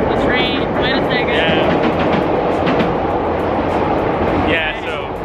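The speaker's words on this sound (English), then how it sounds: "The train." A train rumbles past nearby, a loud continuous roar with a few high squealing tones that fades slightly near the end.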